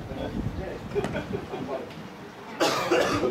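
A single harsh cough bursts out near the end, over a busy background of murmuring voices and room noise.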